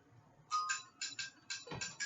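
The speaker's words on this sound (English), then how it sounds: "That is my phone ringing." A mobile phone rings with a bright electronic ringtone, short bursts repeating in a steady pattern, moderately loud in a quiet room.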